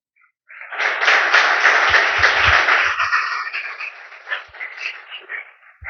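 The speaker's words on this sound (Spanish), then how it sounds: "quiero que se den un fuerte aplauso a ustedes el día de hoy" A church congregation breaks into applause after a short silence, a dense wash of clapping that swells quickly, holds, then thins and fades toward the end.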